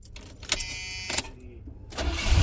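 A car engine cranks and catches, rising into a low, steady idle after a few clicks and mechanical whirs.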